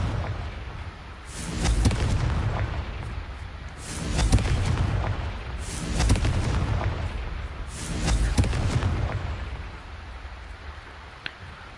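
Confringo spell blasts bursting vases in the Hogwarts Legacy video game, four loud booming explosions spaced about two seconds apart over a low rumbling background.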